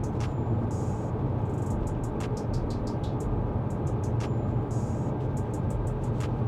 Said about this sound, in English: you can hear the noise inside the cabin at 90